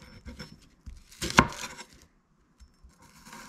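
A knife chops shallots on a cutting board in a kitchen, with a few distinct knocks and one loud, sharp chop near the middle. Short quiet gaps separate the strikes.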